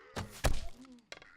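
A zombie in 7 Days To Die takes a headshot, giving a short, solid thunk followed by a heavier thwack and a faint trailing groan, close and moderately loud with no talk.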